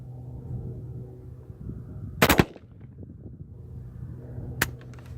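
A Hatfield USA12C camouflage shotgun fires Winchester AA target loads outdoors at a range, giving two sharp, loud blasts a couple of seconds apart over steady background hum.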